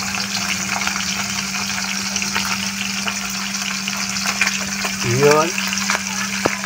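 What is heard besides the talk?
fish frying in cooking oil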